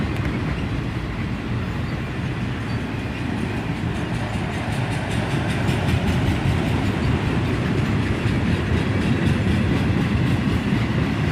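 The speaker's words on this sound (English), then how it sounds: "this southbound auto train. This train is led by a Dash 9 followed by an ES44 DC." Southbound CSX auto train led by a Dash 9 and an ES44DC locomotive rolls past nearby, a loud continuous rumble with rhythmic clickety-clack of wheels on rail joints, growing slightly louder toward the end.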